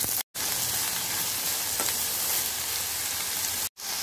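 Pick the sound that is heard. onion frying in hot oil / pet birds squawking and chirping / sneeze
onion frying in hot oil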